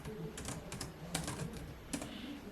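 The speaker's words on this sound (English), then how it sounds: "So I'm going to type in nurse graduation cap" Quick bursts of typing on a computer keyboard, close-up with irregular clusters of key clicks and short pauses between them; no voices.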